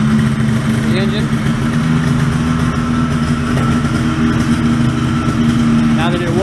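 Quicksilver Sport 2S engine idling after warming up, a steady loud droning hum with a constant low pitch and slight RPM rise, close and continuous throughout.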